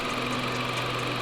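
A 2016 Dodge Journey SX engine idles steadily and evenly, with a constant hum and no talking.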